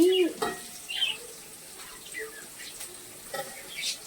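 Food sautéing in a pan in a home kitchen: a soft, intermittent sizzle with brief scraping stirs, fairly quiet and close, with a short tonal sound at the start.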